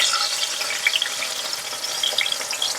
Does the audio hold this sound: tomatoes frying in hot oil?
yes